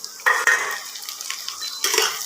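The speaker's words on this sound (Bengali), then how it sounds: "এগুলো আমি ভালোভাবে নেড়ে চেড়ে ভেজে নেব।" Chopped tomatoes are stirred and fried in a pan, with clattering scrapes of a utensil against the metal over a soft sizzle, close by and without talk.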